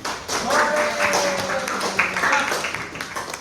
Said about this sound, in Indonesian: kasih tepuk tangan dulu untuk temannya